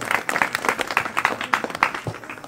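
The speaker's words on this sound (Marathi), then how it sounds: "जोरदार टाळ्या होऊन जाऊ द्या." An audience at a hypnotism comedy and stunt show in Jath, Sangli breaks into applause, a fairly close burst of rhythmic clapping with some uneven individual claps.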